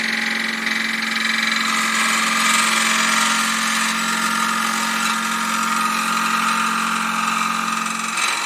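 A wood lathe hums steadily while a 60-degree bowl gouge cuts against the side wall of a bowl, producing a continuous loud, bright shearing whir with a constant motor tone underneath.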